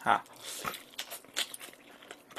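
Crisp bites into a potato croquette pizza, with a few sharp crunches followed by softer chewing, close to the mic amid light mouth noise.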